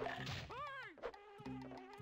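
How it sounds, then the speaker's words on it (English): Bees in the Banjo-Kazooie video game buzz in whining, swooping waves, close and steady, with a sharp hit midway and no talking. "I'm sorry, bees."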